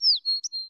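A brief bird sound effect in a children's story: a few quick, thin high chirps and tweets in a short series, clean and isolated against silence.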